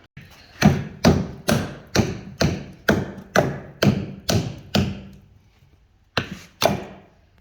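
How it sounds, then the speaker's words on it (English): Repeated heavy blows knocking a seal off a Ford Super Duty truck axle during joint work, about a dozen loud, close, evenly spaced metallic thuds, then a pause and two final hits. "now we're gonna knock that seal off"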